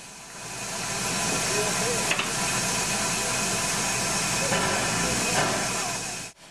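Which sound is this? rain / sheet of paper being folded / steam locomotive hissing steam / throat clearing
steam locomotive hissing steam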